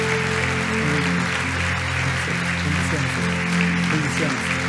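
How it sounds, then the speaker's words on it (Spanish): Church congregation applauding steadily and loudly, a dense continuous wash of clapping mixed with music or crowd voices underneath. "Un aplauso fuerte para todos los campeones."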